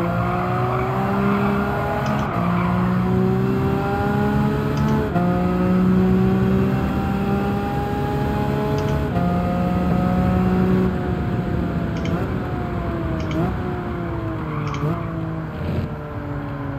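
Lamborghini Veneno race car in Gran Turismo 7, engine droning loud and steady as revs climb through gears with brief shift dips, heard from the car without any talk.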